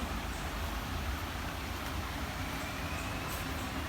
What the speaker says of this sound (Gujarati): અહીંયા ત્યાં ટ્રેન નીકળે છે એટલે અવાજ આવતો હોય છે